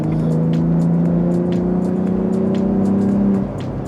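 A Steeda Ford F-150 Raptor Edition pickup in sport mode pulls hard under paddle-shifted acceleration, its engine droning loud and steady from inside the cab, with a slight drop in pitch and level near the end as it shifts.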